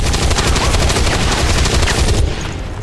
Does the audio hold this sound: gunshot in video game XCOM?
yes